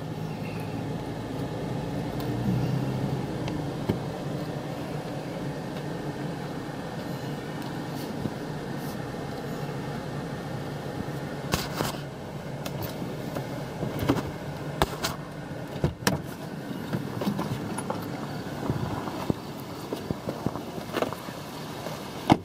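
A 2015 Toyota Tacoma creeps along in drive, a low, continuous engine and road rumble with faint clicks and knocks scattered through the long stretch, no voices.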